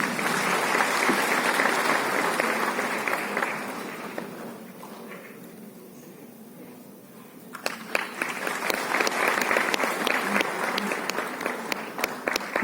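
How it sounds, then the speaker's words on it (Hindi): Sustained audience applause welcoming a medal recipient at a CPWD foundation day ceremony, dense and loud, easing into a quieter lull before a fresh burst of clapping swells again. "जोरदार तालियों से स्वागत कीजिए"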